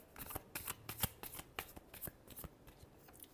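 Tarot cards shuffled by hand in quick, crisp riffling bursts, close and soft with no talk.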